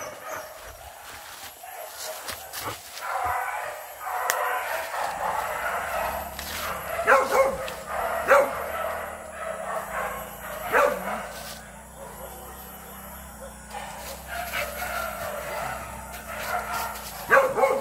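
Hunting dogs bark and yip during a hunt in the open countryside, with sharp bursts repeating through the clip at a moderate distance over rumbling vehicle noise and occasional voices.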